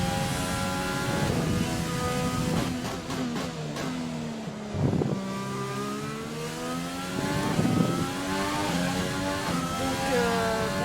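Race car engine in the F1 2020 video game, a loud high-pitched whine climbing through the revs with sharp drops at each gear shift, repeated several times, running alone without voices.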